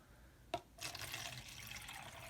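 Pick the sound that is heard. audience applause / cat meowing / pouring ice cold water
pouring ice cold water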